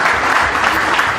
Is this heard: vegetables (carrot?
no